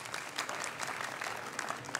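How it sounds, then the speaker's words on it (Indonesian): An audience claps at a village quiz show event held in a wantilan hall in Bali, a steady, moderate patter of many hands sustained throughout without pause. "boleh beri tepuk tangannya ya untuk acara kita"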